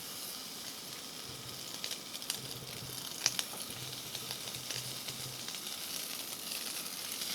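Bacon-wrapped plantains fry in an oiled pan at a camp cooking setup, giving a low, continuous sizzle with soft crackles and a few brighter pops, heard close with no voices.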